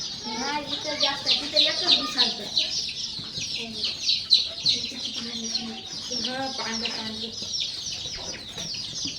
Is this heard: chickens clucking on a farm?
yes